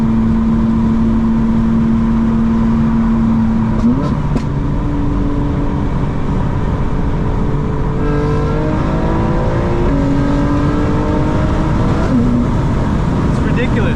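A 900 hp 2025 BMW M4 Competition xDrive pulling hard in 5th gear, loud engine drone rising steadily in pitch with brief shifts, heard from inside the car under a talking driver.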